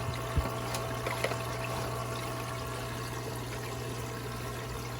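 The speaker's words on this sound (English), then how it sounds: "So we got water coming in this way" Water runs steadily into a Congo tetra aquarium during a water change, a continuous close trickle and gurgle with a couple of small splashes near the start, alone without voices.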